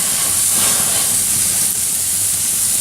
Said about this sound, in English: you will get a little flame up like that because of the butter